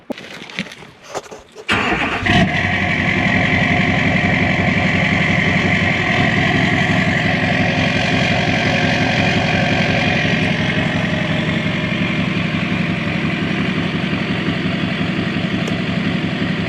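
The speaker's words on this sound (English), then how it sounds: "I want to hear a cold start." A vehicle cold-starts after a few faint handling sounds, its engine catching abruptly and then settling into a loud, steady idle that runs on without a break, close by and outdoors.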